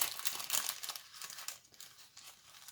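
Yellow paper cutouts being handled, with close crinkling and rustling that comes in bursts and fades toward the end; no voices.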